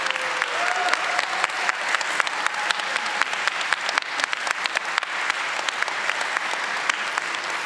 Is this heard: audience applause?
yes